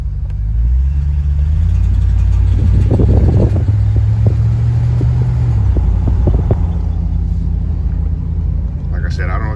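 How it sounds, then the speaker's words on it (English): A 1999-2006 Chevrolet Silverado pickup accelerates with a loud low engine drone while a loose, rock-like rattle clatters in uneven bursts from underneath on the passenger side; a voice briefly speaks over the drone. "I'm getting this like rattling rock sound under my truck in the passenger side"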